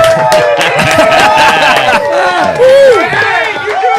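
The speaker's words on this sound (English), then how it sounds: "Let's give him a round of applause." Small group at a live-stream chat cheering and whooping loudly for a guest, rowdy overlapping shouts close by, mixed with voices rather than clear clapping.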